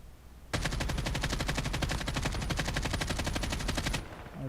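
Rapid automatic gunfire from a Call of Duty Mobile match, one loud sustained burst of fast shots that cuts off abruptly after about three and a half seconds.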